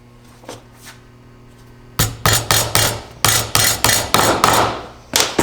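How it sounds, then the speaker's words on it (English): A hammer setting a nail into a glued wooden tool box: two faint taps, then a close run of about ten sharp, evenly spaced strikes, loud and alone. "It looks good, so I'm going to set the nail."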